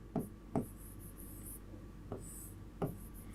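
A teacher writing notes on the board during a chemistry lesson on surface chemistry: four short, faint scratchy strokes spaced apart in a quiet room, with no talking.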